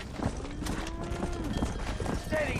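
A cow lows in a long drawn-out moo within Red Dead Redemption, set against a steady rustling outdoor ambience with faint hoof and movement sounds around it.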